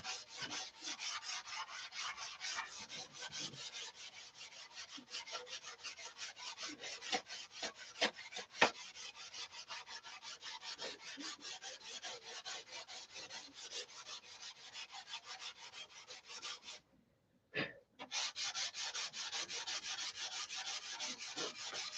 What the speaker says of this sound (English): So it was 36 grit, 80 grit, 180, and 320 to do it in a quick.